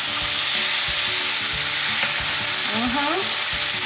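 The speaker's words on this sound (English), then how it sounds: "we got the chicken frying." Oil sizzles and crackles steadily as chicken fries close by, with a few soft scraping stirs and a brief clink of a utensil partway through.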